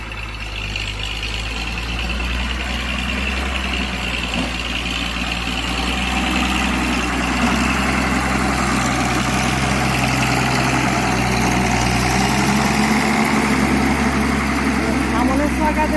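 Road repair machine on a palm plantation road in Malaysia, its heavy diesel engine idling and running steadily with a deep constant drone throughout, loud and close.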